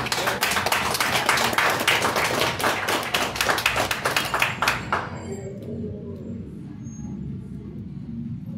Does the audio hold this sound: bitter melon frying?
no